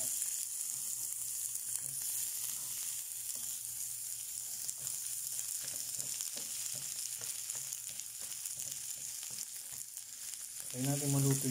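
Onions frying in a pan give a steady, dense sizzle that crackles continuously, with a burst of louder stirring or scraping near the end and no talking.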